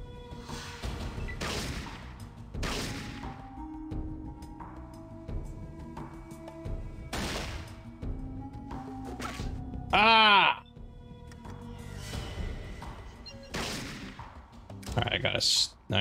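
Gunshots in Fallout ring out as several sharp, spaced bursts across the stretch, mixed with a rising whine and a couple of louder crashes near the end, over low game ambience.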